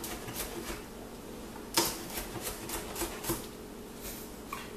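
A knife chops green onion thinly on a cutting board, producing light, evenly spaced taps with one sharper knock, close and alone.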